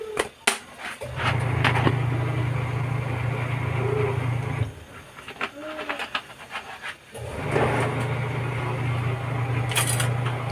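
A washing machine runs loudly in a home with a steady low hum and drone that stops partway through and then starts again, while clatter and kitchen sounds come and go around it.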